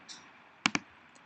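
A computer mouse gives a quick double click, two crisp taps close together, faint and close against a quiet room hum.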